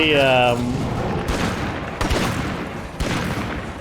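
Gunfire from the zombie survival video game State of Decay 2: a few sharp shots spaced about a second apart over steady game noise, following a short melodic tone at the start.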